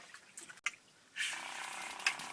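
Water from a shower head in a tiny cabin switches off and back on, a brief quiet trickle, a short clunk, then a steady hiss of spray, close and fairly soft.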